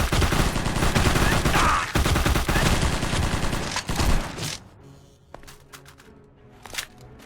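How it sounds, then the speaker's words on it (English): Sustained Uzi fire in an Xbox 360 game rattles loudly for about four seconds, then breaks into sparse, scattered shots over quieter background sound. "If we're gonna have Uzis going on, do them now."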